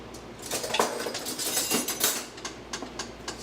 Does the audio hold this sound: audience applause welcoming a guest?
no